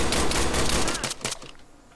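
Rapid bursts of gunfire from an Arma 3 firefight ring out loud and dense for about a second, then thin into a few scattered shots and fading echoes.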